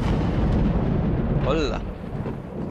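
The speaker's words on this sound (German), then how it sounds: "Das war ein Donner." Deep rolling thunder from the horror video game Layers of Fear, a broad continuous rumble filling the whole stretch, with a brief spoken exclamation over it midway.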